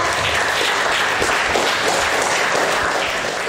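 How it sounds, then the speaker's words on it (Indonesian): Sustained applause from a gathered audience honoring mothers at a Mother's Day event, a dense, steady wash of clapping that holds at an even, loud level throughout with no speech over it. "Ya, tepuk tangan untuk ibu kita."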